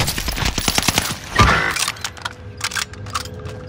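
Gunfire in Call of Duty Modern Warfare, a quick string of sharp close shots in rapid rhythm, then a louder blast followed by scattered fainter pops and clatter.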